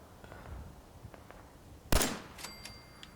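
A single sharp gunshot from a 10mm pistol in the video game Fallout 4, loud and abrupt against quiet background ambience, followed by a few faint tonal game chimes.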